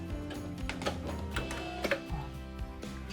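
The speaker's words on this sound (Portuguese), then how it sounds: "E vou reforçar essa costura várias vezes, ó. Eu vou e volto pelo menos umas 4 vezes." A sewing machine runs back and forth over a seam on a small fabric phone-pouch bag, its needle tapping in a fast, steady mechanical rhythm with brief pauses and restarts, close and moderately loud.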